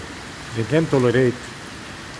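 Heavy rain pours steadily through a storm, a constant broadband hiss that carries the whole clip, with a voice speaking briefly over it near the middle.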